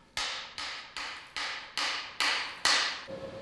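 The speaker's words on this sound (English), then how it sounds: "A hammer can then be used to remove the remaining shell." Hammer knocking ceramic casting shell off a metal investment-cast part, seven sharp, evenly spaced strikes close by, each ringing briefly before the next.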